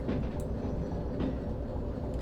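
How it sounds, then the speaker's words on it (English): Train in the railway game Derail Valley, a steady low rumbling rolling sound with faint rhythmic clatter, continuous and fairly close with no talk. "And that is our train right there."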